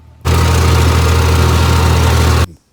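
A mower's engine running steadily while cutting a field prepared for deer season: a loud, constant low drone with broadband roar that starts abruptly and cuts off just as suddenly, with no talk.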